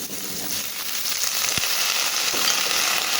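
Bitter gourd (ampalaya) sizzles in a frying pan with onion and garlic, a continuous close hiss that swells slightly, with a couple of sharp clicks from the pan and no voices.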